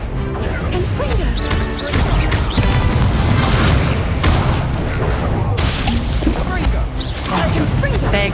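Repeated spell blasts in Hogwarts Legacy, crashing booms and smashing impacts landing one after another in a dense, loud, continuous barrage under game music and a voice.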